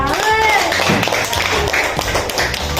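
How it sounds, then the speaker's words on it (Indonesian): Applause from schoolchildren in a fourth-grade classroom at an Indonesian primary school: dense, steady clapping from many small hands, close and continuous, with a voice briefly heard over it at the start. "Oke, tepuk tangan untuk Jessica."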